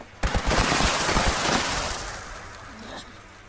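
Rapid automatic gunfire from a legacy weapon in Fallout 76, a dense burst of shots for about a second and a half that trails off into echo, fairly close and alone.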